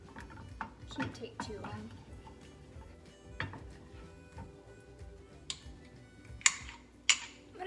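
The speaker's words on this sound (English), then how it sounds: "just stir it around here till it's completely melted all together" A utensil scrapes and clinks against a bowl while melting chocolate is stirred with coconut oil, in scattered light taps. A person speaks briefly over it.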